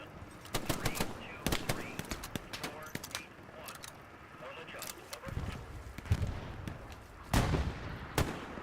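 Machine-gun bursts and other gunfire crackle through a Hell Let Loose battlefield, with several sharp volleys of shots and distant booms over a steady rumble of combat noise, some of it heavy.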